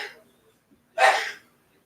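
A single short, breathy sneeze bursts out close by after a faint breath, then silence.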